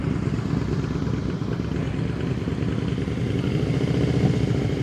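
A motorcycle rolls along at slow speed during a riding practice session, its engine a steady mid-pitched drone with a busy clattering texture, fairly loud and continuous with no voices.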